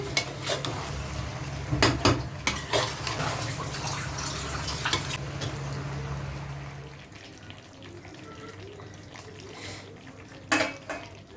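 Mixed vegetables with capsicum stirred in a pan for Kashmiri mix vegetables, with repeated scraping and clattering of a spoon against the pan over a low sizzle, close and fairly quiet.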